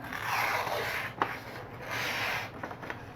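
A knife blade drawn across a 250-grit stone on a ViperSharp precision sharpener, a few slow gritty rasping strokes close by with a light click between passes, quiet and unaccompanied by speech.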